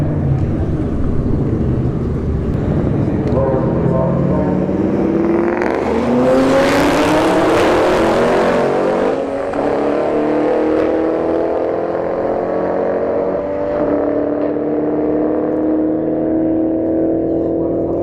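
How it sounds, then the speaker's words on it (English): Two cars launch side by side down a drag strip, a New Edge Mustang Cobra with a front-mount intercooler, likely supercharged, against a Toyota A90 Supra, engines roaring loud and near and rising through the gears as they pull away, at a street drag event. "we have a New Edge Cobra. It's got a front mount intercooler, so it's probably blown. And the A90 Supra on the left lane."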